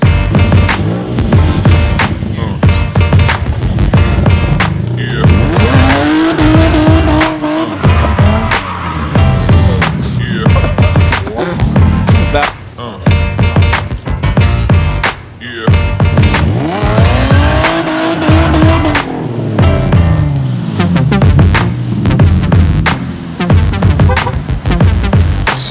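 A car engine revs loudly and continuously while tires squeal repeatedly, rising and falling in sustained bursts, close and dominant with no talking.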